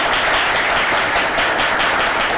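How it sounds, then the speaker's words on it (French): Audience applause at a Côte d'Ivoire–United States event, a dense, steady wash of many hands clapping at once, loud and continuous with no pauses and no voices standing out above it. "je vous demande de l'applaudir très très très fort"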